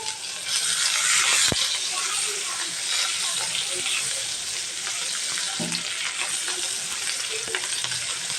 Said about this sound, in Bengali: এখন আমি পেঁয়াজের কুচি দিয়ে এটাকে ভেজে নেব